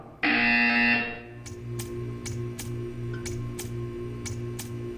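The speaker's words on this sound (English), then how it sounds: "You will hear a buzzer." A loud, harsh electronic buzzer from Portal 2 blares for about a second, followed by a steady hum and a regular series of ticking clicks.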